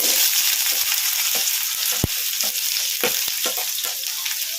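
Chopped onions frying in hot oil with mustard seeds and cumin, a loud, close, continuous sizzle with occasional sharp pops and a few spatula scrapes as they are stirred.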